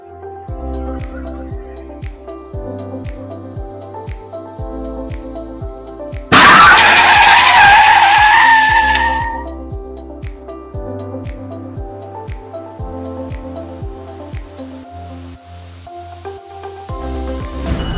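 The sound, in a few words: car crash on highway, speeding vehicle slamming into merging car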